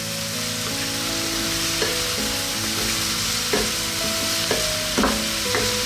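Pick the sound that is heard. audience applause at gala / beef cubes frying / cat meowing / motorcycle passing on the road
beef cubes frying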